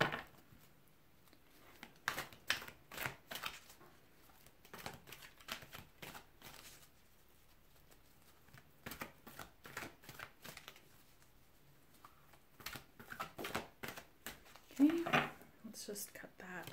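Tarot cards being shuffled and cut, a series of crisp riffling bursts and soft flicks, quiet and close, spread irregularly across the stretch.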